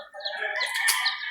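A rooster crows once, a close, loud, drawn-out call that rises and holds before fading.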